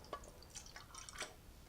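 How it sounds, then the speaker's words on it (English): Dettol poured onto a painted object sitting in a tin, giving a few faint, scattered drips and trickles with short splashy bursts, close by and quiet, with no talking. "I'm going to pour this Dettol onto it."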